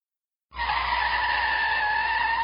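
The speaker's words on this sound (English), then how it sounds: "Whoa, hit the brakes." A car brakes hard with a sustained tire squeal and skid, starting abruptly after a half-second of silence and holding loud and steady for about two seconds as a sound effect, with no voices.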